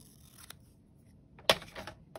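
Scissors snip paper for a junk journal page in a few quiet, close clicks, with one sharper cut standing out among them.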